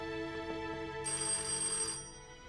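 A telephone rings in a mansion scene from a period TV drama, a steady electronic ringtone that brightens into a sharper, fuller burst midway before easing back, with no voices.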